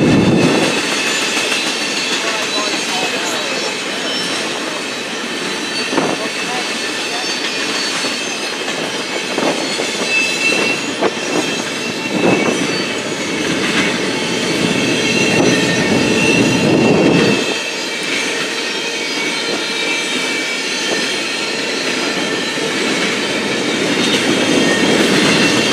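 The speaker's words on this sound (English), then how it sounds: "here comes a CSX train coming out of North Baltimore" A CSX freight train pulls out of North Baltimore and rolls past at close range, loud and steady for about 26 seconds. Wheels squeal and railcars clatter over the joints, with no talking.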